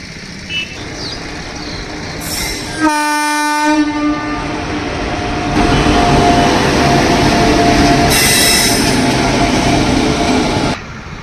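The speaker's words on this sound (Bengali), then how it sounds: "দেখো ওই দিক থেকে ট্রেন আসছে।" A train approaches on a railway line on the route toward Tarapith, Bardhaman and Bolpur, with a loud horn blast followed by a building rumble and rail clatter.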